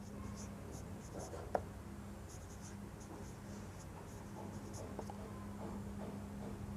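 A pen scratches steadily across paper while a math solution is written out during an online class, close and soft, with one sharp tap partway through and faint speech at times.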